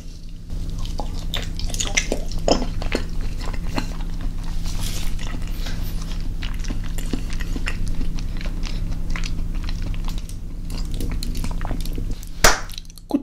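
Close, wet chewing of a last bite of cheese with natto and salmon, with soft sticky clicks and smacks in a steady rhythm over a low constant hum, no talking.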